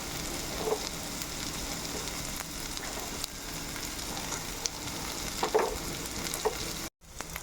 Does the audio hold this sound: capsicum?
yes